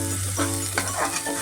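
Curry leaves sizzling in hot oil with fried green chillies while making a light diet chivda snack, a steady close frying crackle with brief bursts as the leaves hit the oil.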